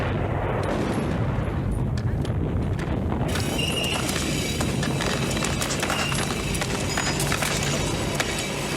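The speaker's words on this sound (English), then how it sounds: "So right away we have that classic explosion" A loud, dense explosion roars from a Rambo: First Blood Part II action scene, a continuous rumbling blast with crackling debris that swells brighter partway through.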